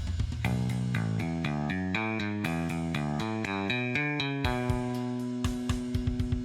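Bright, twangy electric bass notes from a Fender Jazz Bass bridge pickup, sharp attack, played as a quick melodic line with some slides, alone with no talking.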